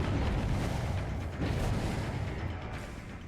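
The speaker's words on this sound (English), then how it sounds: "What are all these explosions I'm hearing?" Explosions from generators in the Dead by Daylight game, a rumbling series of heavy booms and bursts that fill the whole clip loudly and continuously, with brief sharper blasts around the middle and near the end.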